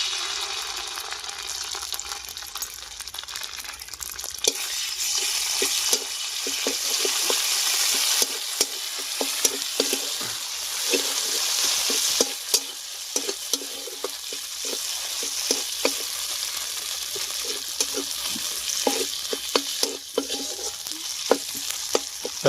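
A paste of cashews, raisins and poppy seeds fries in a pan with a bay leaf, a constant loud sizzle broken by repeated scraping stirs and clinks, close up with no talking.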